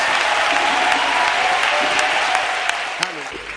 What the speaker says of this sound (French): Acclamons pour Jésus-Christ